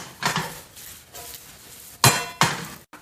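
Mushrooms tossed in a pan on the stove, giving a few sharp metallic clanks and knocks spaced unevenly, two louder ones near the end, close and with no talk.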